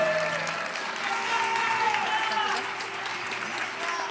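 An arena crowd at an esports grand final cheers and applauds in a continuous, dense roar of clapping and shouting, with a voice faintly audible underneath.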